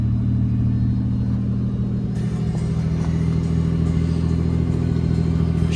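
A 1996 Toyota JZX100 with a five-speed manual idles steadily just after starting, a loud continuous low engine hum and rumble that holds even throughout, heard close with no voices.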